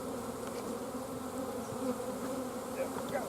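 A dense swarm of honeybees, about 17 pounds of them, hums loudly and continuously up close, an agitated, steady buzz with individual insects whining past now and then.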